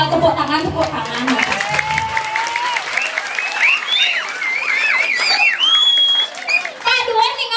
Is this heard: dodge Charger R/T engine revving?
no